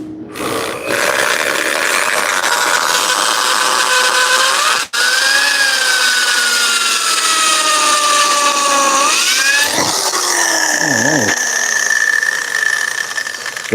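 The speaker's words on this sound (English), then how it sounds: "Let me drill this thing out real quick." A power drill whines steadily for several seconds, its pitch dipping and rising as it bites into metal, then stutters and revs up again near the end.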